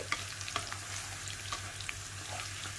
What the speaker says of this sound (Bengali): ফ্লেভার ছড়ানো পর্যন্ত একটু নাড়াচাড়া করে নিচ্ছি।